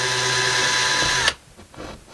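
A drill bores a small pilot hole into a wall while mounting floating shelves, whining steadily at close range for over a second before stopping abruptly, followed by faint handling noises.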